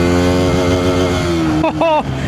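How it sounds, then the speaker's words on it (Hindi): A Bajaj Pulsar N160 motorcycle is ridden hard in second gear, its engine revving loud and close with a rising, strained whine that cuts off briefly for a quick shift, then climbs again. "अब जैसे मैं थोड़ा सा इसको और हार्ड टेस्ट करता हूँ, लेट्स से सेकेंड गियर पे मैं इसको थोड़ा भगाता हूँ"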